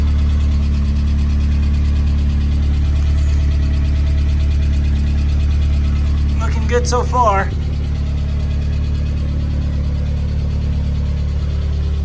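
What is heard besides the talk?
1993 Asuna Sunfire engine idling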